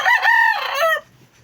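A single crow from a tailless linyada gamefowl rooster: one loud, close cock-a-doodle-doo lasting about a second with a rising-falling contour, then it cuts off to quiet.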